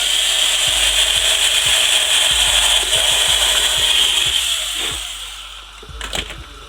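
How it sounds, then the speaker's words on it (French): An electric drill bores a hole in a steady, loud whine with irregular clicking and ratcheting underneath, then winds down near the end. "Percer le trou."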